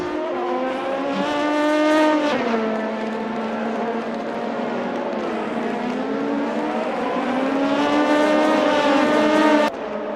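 Race cars roar past in a Le Mans endurance race in a racing video game, engines rising and falling through gear changes in a steady, loud drone, with no talk over them.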